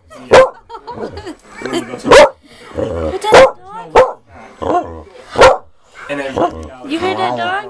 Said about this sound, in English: You heard that doggy?